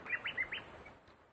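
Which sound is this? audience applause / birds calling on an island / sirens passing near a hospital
birds calling on an island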